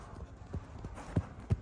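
Horse hooves during a join-up training session with a trainer, a series of soft thuds at an uneven walking rhythm, with the last two hitting heavier, over a murmur of background noise.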